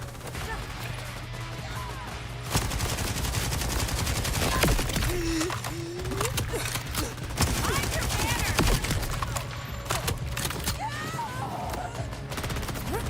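Scattered volleys of gunfire from the video game Borderlands 4 crackle continuously at moderate loudness, mixed with impacts and other game effects while players talk.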